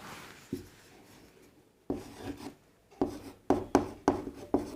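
Pen or marker strokes on a board during a set theory class, a series of short scratchy rubs with brief pauses that grow quicker and more rhythmic toward the end, fairly close and clear.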